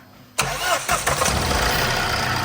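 A Tata vehicle's engine cranks and catches right away after fuel injector repair, then settles into a loud, steady, close-up idle.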